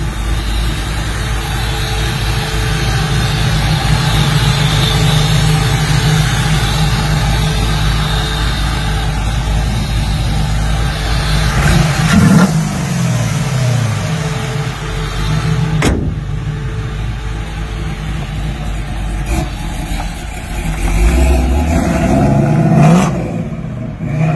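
A 1969 Camaro with a full LS conversion, hot cam, 9-inch Ford rear and TKX 5-speed idles with a loud, choppy lope, blipping its throttle a few times over the steady rumble.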